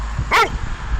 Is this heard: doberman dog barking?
yes